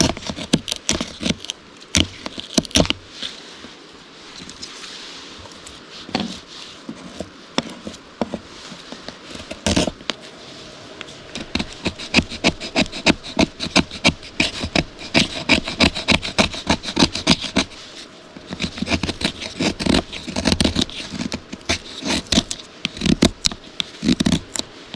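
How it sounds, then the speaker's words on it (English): Knife carving fatwood shavings from pine for a fire on a trail, a rapid series of close, dry scraping strokes in uneven bursts with short pauses between. "I'm going to carve down and get into it as best I can."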